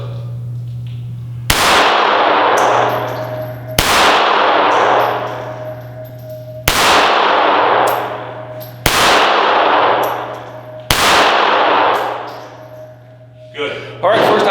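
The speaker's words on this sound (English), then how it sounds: "I'm going to be shooting the Springfield 911 aiming at the number 1 from 5 yards" Five loud, close gunshots from a Springfield Armory 911 .380 pistol fired at a target 5 yards away on a range, evenly spaced about two to three seconds apart, each with a sharp crack and a ringing metallic tail.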